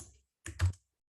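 A few computer keyboard keys are pressed in a brief cluster, soft and close, followed by a pause and one more faint key tap.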